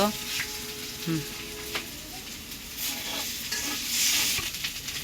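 Sliced potatoes and egg fry in a pan, giving a faint, steady sizzle broken by soft scrapes and clinks of stirring, with brief voices in the background.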